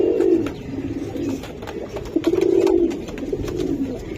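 A pair of pigeons cooing up close, soft low throaty coos repeating in slow rolling phrases, with light background rustle and no talk.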